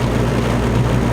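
A car running without a muffler gives a loud, steady low engine drone with a rough rumble throughout, heard alone with no talk.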